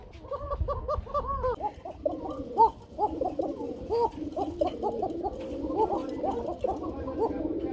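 A group of Kuka pigeons coos nearby in a steady run of soft, rolling, overlapping calls, with low background rumble throughout.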